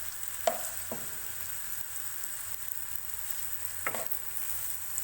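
Chopped onions softening in a pan for an egg ghotala, a quiet steady sizzle with a couple of sharp spatula knocks against the pan.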